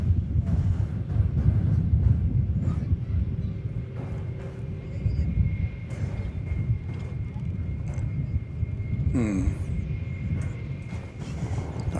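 An American Airlines Airbus A321 at Dallas Fort Worth airport gives off a continuous low engine rumble, fairly loud and steady, with brief talk and wind buffeting mixed in.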